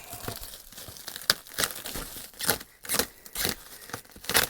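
A parcel's packaging is torn open and crumpled up close, in irregular bursts of crinkling and ripping with short pauses between them.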